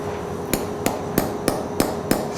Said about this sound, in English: my colleague's going to tap it with a hammer.